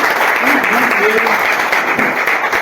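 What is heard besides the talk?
church congregation applause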